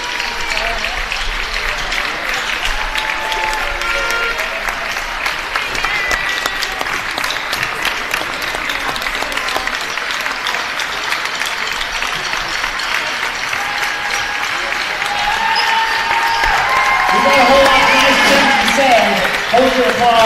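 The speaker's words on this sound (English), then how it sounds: "Hold your applause." Basketball gym crowd applauds during a night ceremony at center court, a long, steady roar of clapping with some voices and an announcer mixed in, swelling louder near the end.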